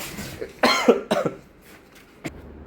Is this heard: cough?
yes